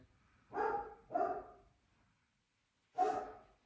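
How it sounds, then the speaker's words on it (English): Three barks from a single dog, two in quick succession then one after a pause, somewhat distant against a quiet background. "barking in the background"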